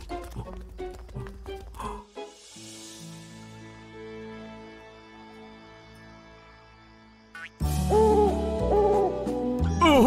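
An animated cartoon owl hoots at night in the children's series Jelly Jamm, with long sustained hoots over soft background music, followed by a louder, busier musical passage.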